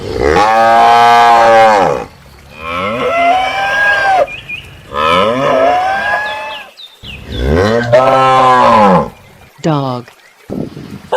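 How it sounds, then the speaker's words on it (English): Cattle low in a series of long, drawn-out moos, about four loud calls with short pauses between them, close and clear with no background sound. "Cow."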